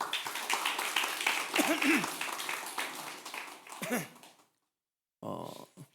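Church congregation giving a hearty round of applause at a retreat, a loud dense crowd clapping with voices calling out, tapering off into silence before a brief burst of speech.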